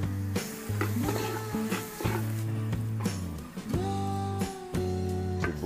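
Garlic sizzles in melted margarine as a spoon stirs it in a pan during fiesta cooking of a pork and beef dish, with steady frying noise and scraping strokes under loud background music.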